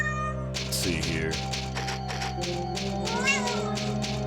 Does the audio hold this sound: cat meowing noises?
yes